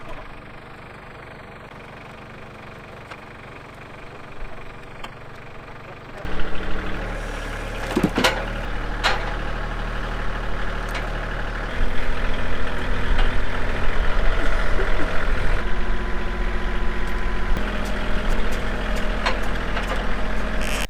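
A farm tractor fitted with pallet forks works at clearing storm-felled wood. A faint idle gives way to a loud, steady diesel rumble that swells further midway and holds close and heavy to the end.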